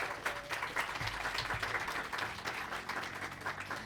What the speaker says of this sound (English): Would everybody please applaud Dr.